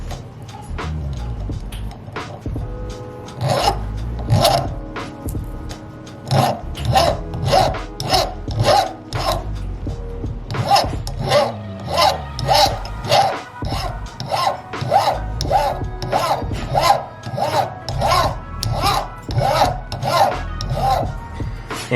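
A jeweler's file scraping a grillz piece flat, a steady series of close, rhythmic rasping strokes, each a short bright scrape repeating about once a second, with no talk.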